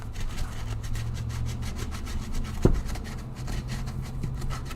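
A fine-grit sanding block, around 320 grit with hexagonal pads, rubs back and forth over a She-Hulk bust in steady rhythmic strokes, a soft, close scratchy swishing with one brief knock partway through.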